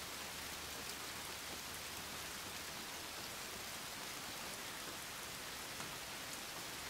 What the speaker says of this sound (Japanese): なんや、雨か。